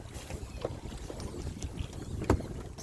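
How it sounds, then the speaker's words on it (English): A small boat with a broken motor is paddled back to port at Monkey Mia, with faint water splashes and paddle strokes under steady wind buffeting on the microphone, close and low in level. "Now we're paddling back to the port because the motor is not working."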